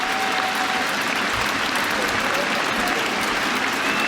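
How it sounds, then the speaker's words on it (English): A large cricket crowd applauds Alastair Cook's century in his final Test match, a dense, sustained roar of clapping that fills the whole stretch without letting up. "the crowd just giving waves and waves of applause"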